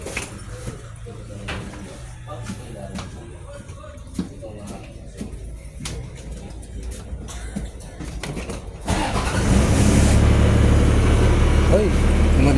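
A vehicle engine starts and settles into a loud, rumbling idle after a stretch of background chatter and shuffling, with people talking over the noise before it.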